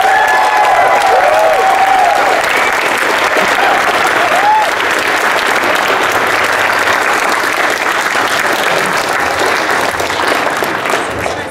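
A convention panel audience at PAX East 2013 breaks into sustained, loud applause that fills the room evenly, with some faint cheering. A speaker's voice is heard briefly at the start.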